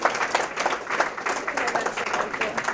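An audience gives a round of applause welcoming a speaker named Frank, a steady wash of many hands clapping throughout, fairly full and close, with no break.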